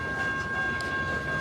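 A Paducah and Louisville Railway freight train, running with two DPUs on the rear, picks up speed in a steady, loud rolling rumble of rail cars, with a faint tonal whine above it and no voices.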